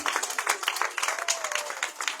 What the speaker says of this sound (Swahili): Na leo tuweze tukapigia watoto wetu makofi kwa sababu ya kazi nzuri.